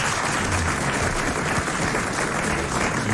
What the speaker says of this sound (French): nous allons l'applaudir tout de suite